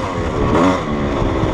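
A dirt motorcycle being ridden on a 26-mile trail loop, its engine holding a steady, loud drone close by with a brief swell of revs partway through, no voices.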